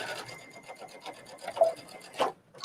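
A sewing machine stitches bias tape along a fabric edge in a short, close run, its quick needle rhythm broken by brief pauses, with no talking.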